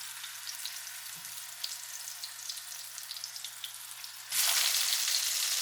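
Onion dropped into hot avocado oil in a pan on medium heat bursts into a loud, steady sizzle partway through, following quieter crackling oil; no talking.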